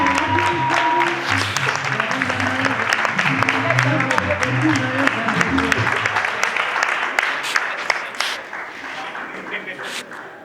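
Theatre audience applauding at the close of the play "Le coupable" by Ngwej Katot, a dense sustained clapping that carries through the whole stretch, mixed with crowd voices and some music or singing underneath.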